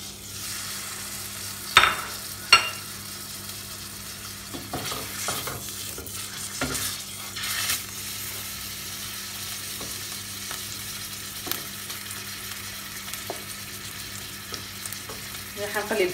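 Meat fries in melted ghee in a pot, a continuous close sizzle with a couple of early sharp utensil knocks and occasional quieter stirring scrapes, no voices.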